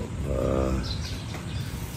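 Pet birds chirping at home on a rainy day, small scattered tweets faint over a steady wash of background noise, with no talk.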